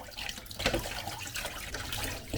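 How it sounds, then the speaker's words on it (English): Hot water runs from a tap into a washing bowl, a soft steady gush and splash that stays fairly quiet and continuous throughout, with no talk. "So I'm just going to fill this washing bowl with hot water"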